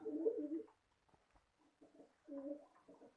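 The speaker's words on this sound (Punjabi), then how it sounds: "ਕਾਲਾ ਚੀਨਾ ਕਬੂਤਰ ਹੈ" A black Chinese pigeon coos nearby in soft, low, throaty bursts, two main phrases separated by a short pause, in an otherwise quiet setting.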